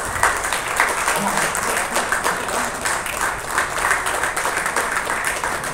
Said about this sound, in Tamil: ஸோ இவரை நீங்க கைத்தட்டி